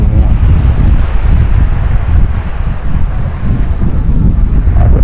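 Loud, continuous wind buffeting the microphone alongside rolling surf at Praia Formosa beach in Cabedelo, a dense, unbroken roar of air and water with no one speaking.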